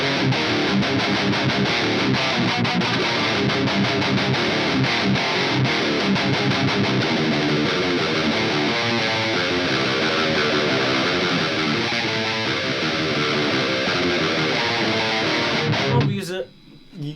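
Electric guitar through an Engl Powerball amp, a continuous busy distorted riff played loud and steady for about sixteen seconds before stopping abruptly.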